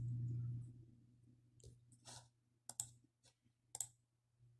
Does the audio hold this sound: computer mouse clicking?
yes